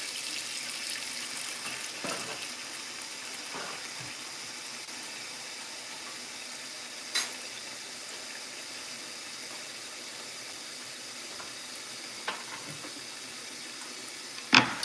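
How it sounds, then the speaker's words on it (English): Gold potatoes rinsed under a running kitchen faucet, a steady hiss of flowing water into the sink with a few soft knocks and clatters, no talking. "I just added a first batch of potatoes. I'm rinsing some more"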